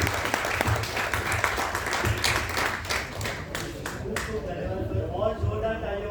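An audience at a Hindi talk on wars claps in a brisk, scattered burst that thins out after about four seconds, giving way to someone speaking into a microphone.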